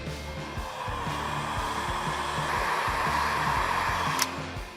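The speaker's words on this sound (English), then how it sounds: "Now we'll heat shrink the butt connector." Heat gun blowing steadily on the heat shrink of a butt connector while wiring cab lights on a 2008-2016 Ford Super Duty; a continuous close whooshing hum with a low motor drone, ending with a brief click.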